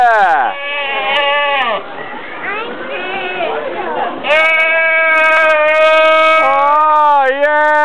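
A goat bleats loudly and close up in a run of wavering, drawn-out cries, one following another with hardly a pause.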